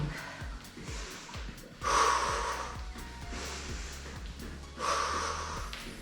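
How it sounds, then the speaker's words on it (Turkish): Heavy breathing during a beginner exercise routine, sharp snort-like breaths repeating about every few seconds, close and fairly loud with no talking. "Sakın bırakmayın nefes alıp vermeyi."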